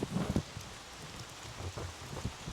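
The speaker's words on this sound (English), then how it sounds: "It started raining" Rain beginning to fall outdoors, a soft steady patter with scattered heavier drops and low rumbling gusts, fairly faint and close, with no talking.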